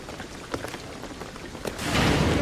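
Rain falling in the video game Shadow of the Tomb Raider, a steady soft patter of drops that swells into a louder, denser downpour toward the end, with no voices.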